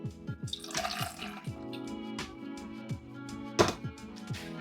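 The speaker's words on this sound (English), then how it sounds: "Add 180 millilitres of milk." Full fat milk poured into a blending container, a close liquid trickle with small dripping, gurgling splashes, quiet and steady for a few seconds with no talking.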